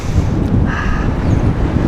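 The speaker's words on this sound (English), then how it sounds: "we got a headwind anyway" Steady wind rushing and buffeting over the microphone while riding a road bike into a headwind, a continuous low roar with no speech.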